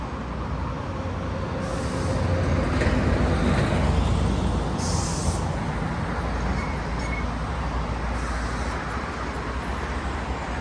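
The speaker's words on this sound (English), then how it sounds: "Alright, here comes my tram to Central." A tram arriving at a Sydney stop rumbles in with a steady low roar, briefly swelling louder before easing, with a few high squeals from the rails.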